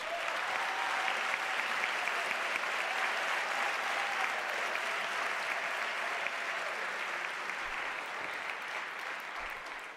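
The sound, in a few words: round of applause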